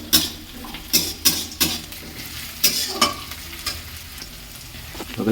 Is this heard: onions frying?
yes